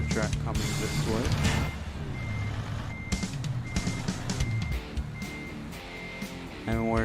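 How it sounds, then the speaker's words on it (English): Repeated reversing beeps from a truck backing up, evenly spaced and sounding over a low idling diesel engine, with someone talking across the clip. "got another truck coming this way."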